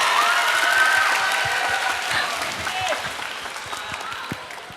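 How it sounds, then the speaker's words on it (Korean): Students clap at the close of a lecture on a televised talk show, a broad wash of applause with some cheering and raised voices over it, easing off slightly toward the end. "여러분 그럼 박수 한번 치면서 오늘 강연 마무리하겠습니다."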